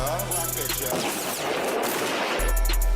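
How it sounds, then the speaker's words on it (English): Gunshot sound effects in a track: a dense burst of rapid gunfire, loud and rattling, layered over the song's beat. "Those gunshots were not on beat."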